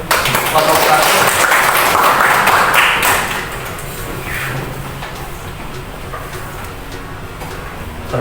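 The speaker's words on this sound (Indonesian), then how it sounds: "Kasih tepuk tangan untuk kelompok 1." Classroom applause for the first student group about to present in a teaching practice lesson, a burst of many hands clapping for about three seconds that then thins out into quieter room noise.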